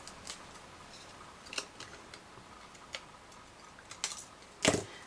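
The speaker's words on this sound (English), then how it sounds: "I'm going to cut these leaves off" Scissors snipping leaves off a paper flower for a handmade card, close and sparse, a few separate crisp cuts with the last one louder, over a quiet room.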